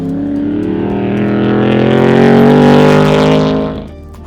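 A 1957 Chevrolet Corvette race car engine revs up strongly, a loud, rising rasp that holds near full power for a few seconds before cutting off sharply, close and alone.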